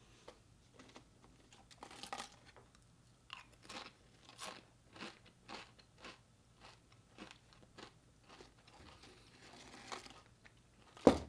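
Original-flavour Pringles potato chips crunched in close-up, a series of sharp, dry bites and chewing bursts spread evenly, with no talking.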